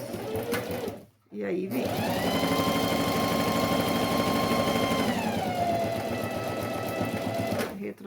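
Sewing machine running steadily through a backstitch on a boxy zippered pouch, a brief pause then a sustained whirring motor with rhythmic needle stitching, close and loud, with a short spoken phrase at the start.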